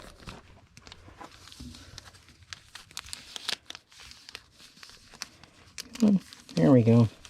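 A paper envelope crinkled and handled while packing small items for mailing: soft scattered rustles and crackles, with a louder burst of crinkling at the end.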